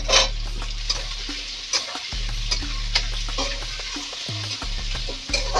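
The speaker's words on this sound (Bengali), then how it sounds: "কড়াতে আমি প্রথমে পেঁয়াজ কুচিগুলো দিয়ে দেব। এবার দেবো টুকরো করে কাটা লম্বা করে আলু কাটাগুলো এখানে দিয়ে দেব।" Chopped onions and long-cut potato pieces frying in oil in a kadai, a steady close sizzle with frequent scraping stir strokes throughout, no voices.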